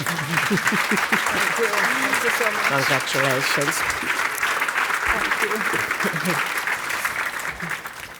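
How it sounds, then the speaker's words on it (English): Sustained audience applause at a foundation awards ceremony, dense and loud clapping throughout that fades slightly at the end, with voices speaking over it. "Now you can all applaud."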